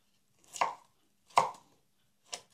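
Three sharp knife cuts through homemade Schinkenspeck bacon on a board, crisp and close in an otherwise quiet room, evenly spaced about a second apart.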